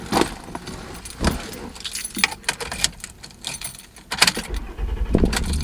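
A set of car keys jangles and rattles in several bursts, close and fairly loud, inside a parked car with no talking.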